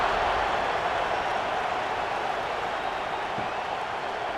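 Stadium crowd noise from the College Football 26 video game, with a steady, dense roar of cheering and applause held at an even level throughout, broad and distant with no single voices standing out.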